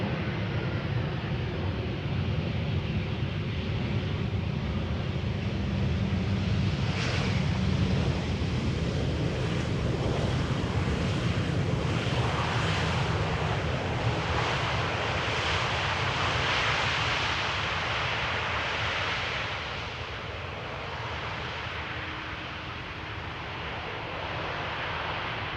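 An EasyJet A319 arriving at misty Amsterdam Schiphol from Prague, a broad far-off jet rumble mixed with wind buffeting the microphone, swelling in the middle and fading near the end.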